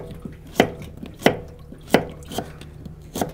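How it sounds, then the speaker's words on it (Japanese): Carrot being chopped on a board with a knife: five sharp, evenly spaced chops about two-thirds of a second apart, close and distinct over a quiet background. "人参切って"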